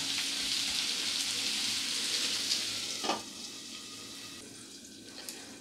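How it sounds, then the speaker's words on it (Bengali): Potatoes frying over a low gas flame in a lightly covered pan give a steady, close hiss that runs throughout, with a brief clatter near the middle and the sizzle quieting slightly afterward. "তো এইভাবে ঢাকা দিয়ে আলুটাকে কিছুক্ষণ ভেজে নিতে হবে, গ্যাসটা আস্তে দিয়ে।"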